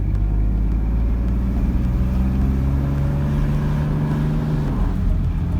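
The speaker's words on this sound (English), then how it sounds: "It has a delay shifting from first gear to second" A 1997 Ford F-150 with a 4.2 engine and 4R70W automatic transmission pulls away with a steady engine drone, holding first gear before a sluggish shift to second, loud and close with no talking.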